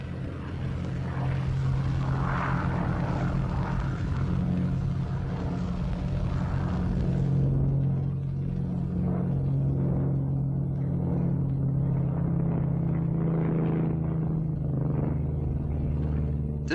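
An Australian-built CAC Boomerang WW2 fighter plane flies overhead, its propeller engine a steady, heavy rumbling drone that shifts in tone partway through.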